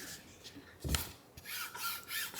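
A fingertip rubs across the textured surface of a pickleball paddle, producing quiet, dry rasping scrapes in a few short strokes, with one brief heavier scrape near the start.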